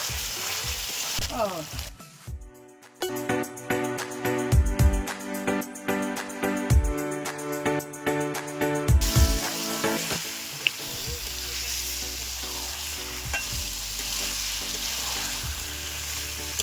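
Chicken pieces for rezala hit hot oil and spice paste, sizzling loudly with repeated stirring scrapes and clatters, then settling into a steady frying hiss.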